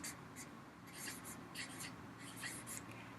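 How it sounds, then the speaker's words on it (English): A pen or marker writes a word on a board or paper, a faint series of short scratchy strokes in bursts, close and quiet with no talking. "I'm going to write divided."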